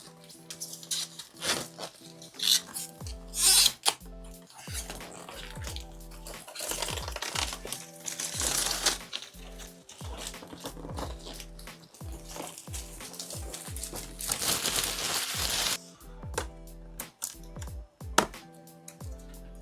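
Crinkly plastic blister packaging being peeled and pulled open while unboxing a drone, a series of close rustles, crackles and sharp snaps with short quiet gaps, no talking.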